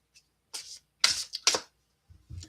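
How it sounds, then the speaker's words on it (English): Tarot cards being shuffled in short crisp riffles and slaps, three or four separate close bursts with quiet gaps between, heard alone without talk. "I'm going to be shuffling some tarot cards here"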